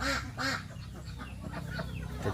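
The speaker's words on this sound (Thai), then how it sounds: "นี่นะครับเสียงเป็ดตัวเมีย" A female duck quacks loudly twice, then keeps up softer, rapid quacking nearby.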